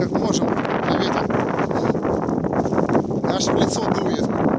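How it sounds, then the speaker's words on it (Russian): Strong winter wind, gusting about 22 metres per second, buffets the microphone in a continuous low rumbling roar, with someone talking through it. "Ветер сильный, задувает сильно."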